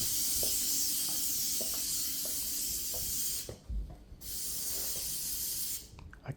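A spray can hisses in long, continuous bursts. One burst runs for several seconds, then the spray stops briefly and starts again. Faint clicks and small knocks sound in the background.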